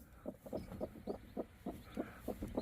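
A hen sitting on freshly hatched chicks, giving soft low rhythmic clucks and murmurs in a steady series, close and fairly quiet.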